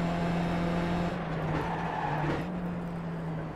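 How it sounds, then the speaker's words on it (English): A race car in the iRacing video game hums with a steady synthetic engine drone, while a brief tyre skid squeals in the middle, the engine tone dipping and recovering as it continues. "the engine sounds a bit synthetic and the tyre skid sounds a little"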